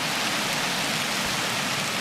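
Steady rain pours in the video game 35MM during a village raid, a dense, even hiss filling the whole stretch, loud and constant with no voices over it.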